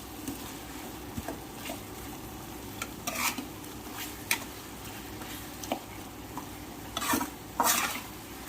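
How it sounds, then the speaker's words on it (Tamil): Chicken gravy with ground pepper spice powder is stirred in a pan over a soft, steady sizzle, with scattered scrapes and clinks of the spoon against the metal, near and unaccompanied by talk. "இப்போ இது நல்லா கலரி கொடுத்துக்கோங்க. ஒரு 2 நிமிஷம் அப்படியே நல்லா கலரி கொடுங்க."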